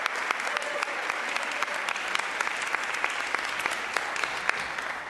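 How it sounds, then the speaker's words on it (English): Steady applause from an audience at a county Board of Supervisors meeting, dense continuous clapping with no talk over it. "Give them a round of applause."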